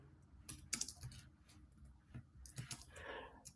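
Someone types on a computer keyboard entering a referee's details, quick irregular key clicks in short bursts, quiet and close, with no speech.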